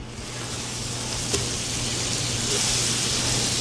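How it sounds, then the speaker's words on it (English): Half a cup of butter melting in a 12-inch enameled cast iron pan, giving a steady close sizzle and crackle that swells slightly toward the end, with a faint low hum beneath. "Oh yeah, listen to that sizzle."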